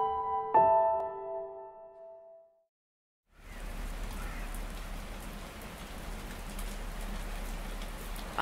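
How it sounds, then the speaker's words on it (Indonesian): After a short chime-like musical phrase and a moment of silence, steady rain falls outside a window, a soft continuous hiss of drops that carries on evenly to the end. "Aku terpaku menatap hujan di luar jendela."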